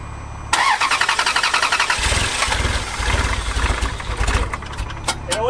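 A junkyard Ferrari engine cranks and roars to life, then revs loudly and unevenly with a rough, sputtering idle close by.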